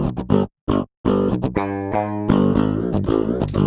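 Heavily distorted, low-tuned electric guitar strung with 52 and 60 gauge strings, playing loud chugging riffs with brief gaps, then sustained ringing chords and melodic notes, close and up front with no voices.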